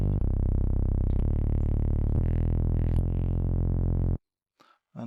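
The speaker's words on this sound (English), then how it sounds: "For this example, we're going to do a simple saw wave" A bright, buzzy synthesized saw wave layered with additive synthesis plays a sequence of sustained notes, each changing pitch about once a second, then cuts off abruptly, leaving near silence with a faint brief noise.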